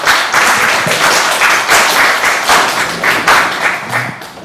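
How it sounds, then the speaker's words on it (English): An audience at a live business talk on crypto applauds a speaker being introduced, with steady dense clapping that fills the room throughout. "please do give a round of applause to our great speaker today, Kate Baucherel"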